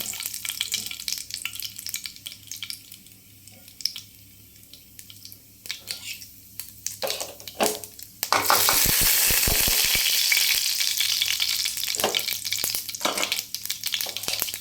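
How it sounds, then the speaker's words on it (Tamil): Hot oil sizzles steadily, then a loud burst of crackling and spluttering as mustard seeds pop, continuing for several seconds, while cooking a carrot dish. "எண்ணெய் வச்சாச்சு இப்போ கடுகு போட்டுக்கலாம்"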